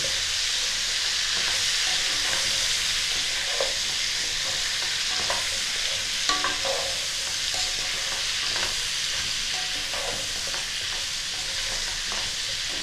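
Cauliflower florets with salt and turmeric fry lightly in a pan, giving a steady, even sizzle throughout with occasional soft clinks and stirring scrapes.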